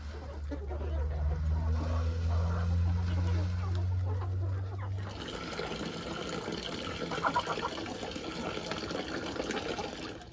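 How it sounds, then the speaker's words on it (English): Water gushes steadily into a container with a low rumbling fill for about five seconds, then gives way to hens clucking and rustling nearby. "I want to fill up the water for the chickens"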